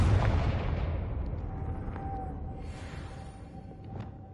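A Confringo fire-blast spell in a Harry Potter video game erupts as a loud, rumbling explosion at the start and then fades into a long, booming decay with a faint whistling tone lingering underneath.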